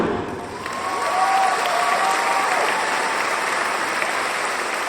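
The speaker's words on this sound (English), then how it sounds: "you came here prepared with your own applause track" Sustained applause from an audience at a TEDx talk, steady and continuous with a broad hiss of clapping throughout, swelling slightly after the first second and holding evenly to the end.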